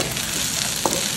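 Finely chopped green chili added to a hot frying pan for egg bhurji, a steady loud sizzle with a brief bump as the pieces go in.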